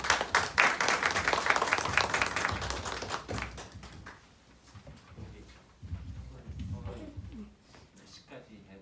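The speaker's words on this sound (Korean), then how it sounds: "여러분의 큰 박수로 강사님을 맞이하도록 하겠습니다" An audience at a museum forum in Pyeongtaek claps to welcome a lecturer on modern architecture, loud dense applause for about three seconds that thins into scattered claps, with talking under and after it.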